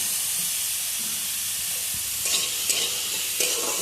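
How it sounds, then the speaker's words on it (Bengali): Chopped vegetables fry in a pan with a steady, close sizzle and hiss, broken by a few light stirring scrapes toward the end, no talking. "ভালো করে একটুখানি ভাজা ভাজা করে নেবো"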